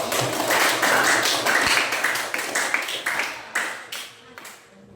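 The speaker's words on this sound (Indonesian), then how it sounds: "Yuk, beri tepuk tangan dulu." A classroom group claps hands together in a dense, lively burst that gradually thins into a few scattered, separate claps before stopping.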